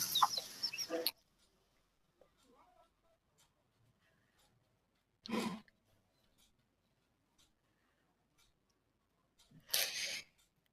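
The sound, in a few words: rooster clucking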